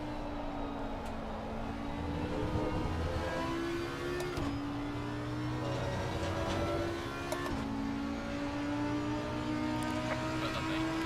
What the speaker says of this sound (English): Listen to that engine, though.